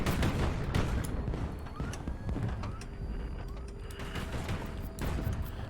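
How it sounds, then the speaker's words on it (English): Rocket salvos in a HighFleet battle rattle off as a dense, continuous barrage of overlapping blasts and crackles, loud and sustained for several seconds with no voices. "It's a lot of rockets coming from you."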